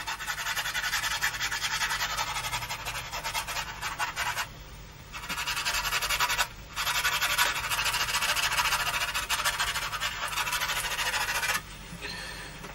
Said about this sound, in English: A dry brush.